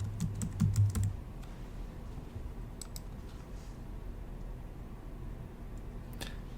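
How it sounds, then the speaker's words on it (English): Typing a password on a Mac computer keyboard during a software install: a quick burst of close, crisp key clicks at the start, then a few scattered taps over steady low room hum. "here I need to put in my computer password"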